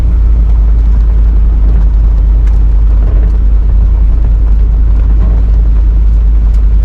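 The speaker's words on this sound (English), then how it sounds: "you've had your first ride in your V8 swap pickup, so, and it sounds good. Not too bad with the stock muffler" A V8-swapped pickup truck with a stock muffler runs with a loud, constant low exhaust rumble and no talking.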